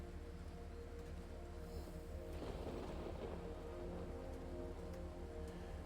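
Steady rain falling in the fantasy dungeon game Dungeonborne, a continuous soft hiss of rainfall with a faint low rumble swelling midway, no voices.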